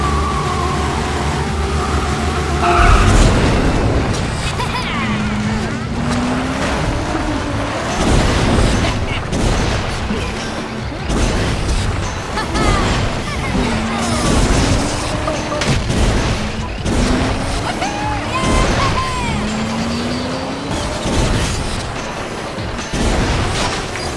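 Kart racing in ModNation Racers: loud engine roar and booming impacts of cars skidding and crashing, with repeated rising whine-like tones and heavy rumbles throughout, some voice mixed in.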